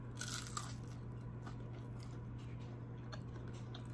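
Close crunchy bites into a melty peanut butter and chocolate snack bar, a few quiet crisp cracks near the start followed by faint chewing and ticking over a low steady hum.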